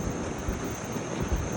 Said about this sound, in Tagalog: Medyo malakas ang hangin pa